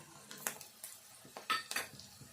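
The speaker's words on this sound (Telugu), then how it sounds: "ఈ ఉల్లిపాయ కొంచెం వేగంగానే ఈ మిల్ మేకర్ వేసుకుందాము." Soya chunks, or meal maker, go into a pan of frying onions: a few quick, faint metallic clinks and scrapes of a utensil against the cookware.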